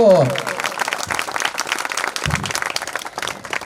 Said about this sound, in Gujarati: તાળીઓ પાડો ભાઈ, તાળીઓ.